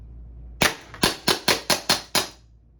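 Sharp, loud BB gun pistol shots fired indoors in a hotel room: seven snappy cracks in an uneven rapid sequence, each with a brief decaying tail, then quiet.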